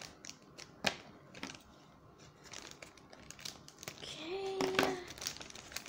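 A squishy package being cut open: scattered crinkles of plastic wrapping, sharp snips and small scraping clicks, close and fairly quiet, with a short high squeak near the end.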